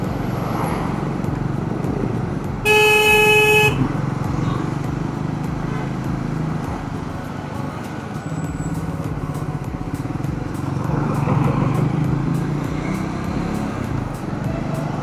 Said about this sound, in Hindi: ट्रैफिक बहुत ज़्यादा मिल रहा है यार आज।